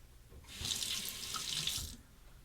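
A razor rinsed under a running tap during a wet shave, a steady splashing rush of water lasting a couple of seconds, close and alone.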